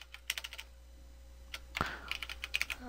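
Computer keyboard typing in short irregular bursts of clicks, close and fairly quiet, with one sharper tap in the middle and a few final keystrokes.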